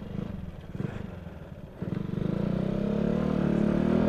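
A motorcycle ridden in cold weather runs with a low, pulsing engine note that rises into a steadier, louder drone as it picks up speed, with no talk.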